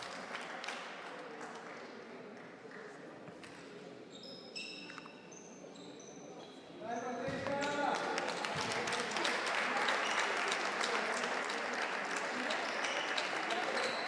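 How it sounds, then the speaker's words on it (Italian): Crowd applause fills a basketball arena during an Istrana Basket versus BFC Conegliano game, starting as a thinner patter and then swelling into loud, sustained clapping that holds steady to the end. "accolta dall'applauso di tutto il Pallaparonetto"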